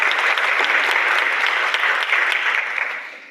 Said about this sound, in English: if you can please join me in giving him a big round of applause.